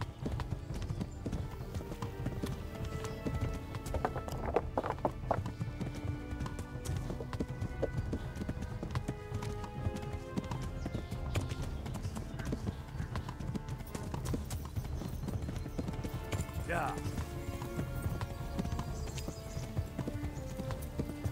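Rapid, steady hoofbeats of a horse galloping in a race in the video game Kingdom Come: Deliverance continue throughout at moderate level, with a brief whinny and faint background tones.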